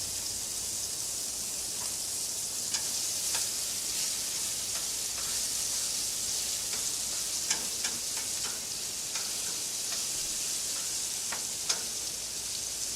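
Bacon frying in a pan, a steady broadband sizzle with scattered crackles and pops, close and constant for the whole stretch with no talking.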